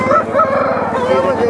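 A year-and-a-half-old Aseel rooster at a busy fowl market in Balrampur, West Bengal, with a loud, close, drawn-out crow-like call lasting the whole moment, set against a crowded market background.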